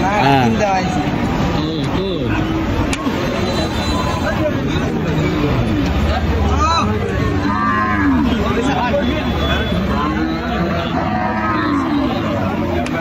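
Cattle at a crowded cow market moo repeatedly and loudly, the lowing calls overlapping amid busy crowd chatter and background traffic noise throughout.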